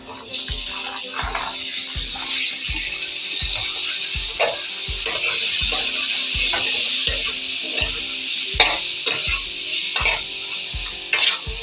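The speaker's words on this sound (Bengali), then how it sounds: "একটু ভাজতে থাকবো" Chopped vegetables frying in a pan for a mixed vegetable curry, with a steady sizzle and repeated spatula scrapes and knocks against the pan in a regular rhythm, close and fairly loud, no talking.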